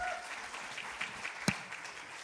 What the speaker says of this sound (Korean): 큰 박수로 함께 해주십시오